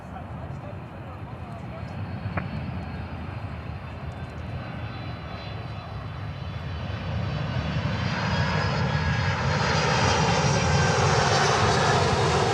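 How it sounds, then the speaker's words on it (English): A Lufthansa Boeing 747-8 jet's engines roar steadily in the background at an airport, building louder and more rumbling toward the end as the aircraft approaches. "And there we see the Lufty 747 in the background."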